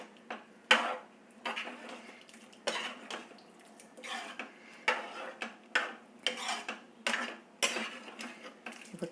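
Cooked chow chow and toor dal being mixed in a pot, a series of repeated scraping and rubbing strokes of a ladle with soft knocks, close and fairly quiet, in an uneven rhythm.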